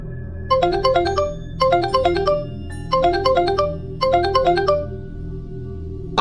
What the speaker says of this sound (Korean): 그렇게 나는 무심코 컴퓨터를 보고 있던 중 휴대전화 벨이 울렸다.